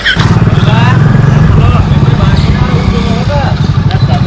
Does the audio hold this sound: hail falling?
no